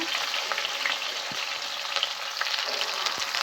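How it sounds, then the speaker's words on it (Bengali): New potatoes for niramish dum aloo fry in a pan with a steady, close crackling sizzle, punctuated by a couple of soft knocks from a spoon. "একটু ভালো করে ভেজে নেব।"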